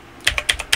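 Computer keyboard keys tapped in a quick burst of four or five sharp, close clicks, each press distinct, with no talking over them.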